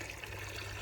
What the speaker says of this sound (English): So I'm filling up 3 buckets of nice warm water